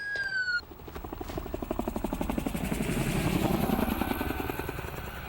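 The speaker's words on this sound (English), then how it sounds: "a helicopter was out there too" A helicopter's steady rotor chop and engine drone hold through the whole stretch, loud and close, with a brief tonal whine at the start; no one speaks.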